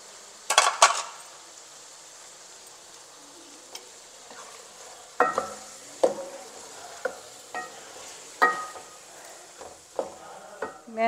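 Meat and whole garlic cloves sizzle steadily in a pan under a constant frying hiss, while a utensil scrapes and clinks against the metal in scattered stirring strokes.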